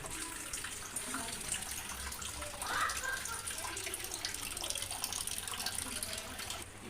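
Water runs steadily from a tap for rice soaking, a continuous soft splashing flow that stays even and fairly quiet from start to finish.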